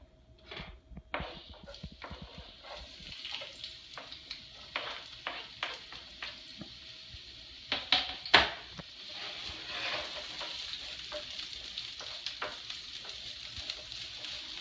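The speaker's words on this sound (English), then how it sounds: "first I'm going to saute my onions and the serrano peppers" Onions and serrano peppers sauté in warm oil in a pan for huevos a la Mexicana, a soft continuous sizzle broken by scraping stirs and occasional louder clatters, with no one speaking.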